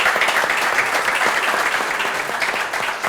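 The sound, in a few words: applause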